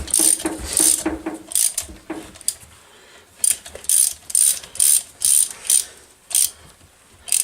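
A ratchet wrench clicks in quick bursts as it tightens nuts onto studs, with several separate sets of rapid ratcheting and brief pauses between them.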